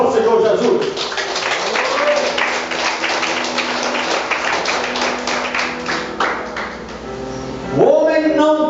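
Church congregation clapping steadily in praise, a dense continuous run of hand claps for several seconds, with a preacher's voice rising over it near the end.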